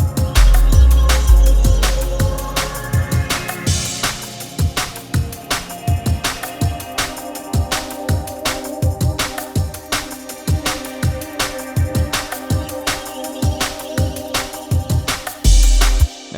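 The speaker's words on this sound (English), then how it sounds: "that kick, it's still thumping, and it's still pulling that song forward" A thumping kick drum drives an atmospheric drum and bass mix, steady loud low hits in a fast rhythm under layered pads and hi-hats, with no voice.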